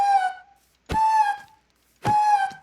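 A hurt sound from a modded Minecraft creature in a biomes mod, three eerie whistling, wailing cries spaced about a second apart, clear and loud against silence.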